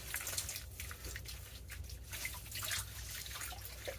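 Wet towels wrung out by hand over a bucket of cold water, giving a steady run of trickling, dripping and splashing that sounds close, with no talking.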